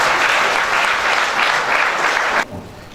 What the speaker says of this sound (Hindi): कलीसिया सब ताली बजाकर परमेश्वर को महिमा करेंगे